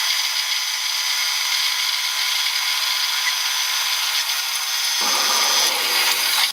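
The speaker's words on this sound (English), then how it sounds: "I'm going to try running that up and down each of the grooves and then around the outside just to knock off all these sharp corners" A rotary cutter runs along the grooves and outer edges of a machined heat sink to knock off sharp corners, giving a steady, loud high-pitched whir that drops lower and rougher near the end.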